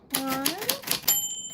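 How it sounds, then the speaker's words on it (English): A 1949 Royal Arrow typewriter bell rings out with a bright metallic ding near the end, following a few sharp key strikes, while a voice speaks underneath. "your name fell on the typewriter bell"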